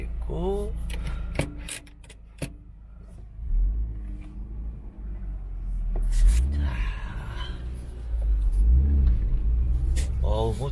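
A Mitsubishi Lancer Evolution with a replaced engine being tuned revs in rising and falling bursts, with some clicks and rumbling between them, close by and moderately loud.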